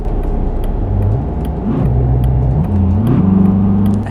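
Car engine in Euro Truck Simulator 2 with a G29 wheel, driving fast toward Edirne: a loud, steady low drone whose pitch climbs through gear changes as the car accelerates, with no voices.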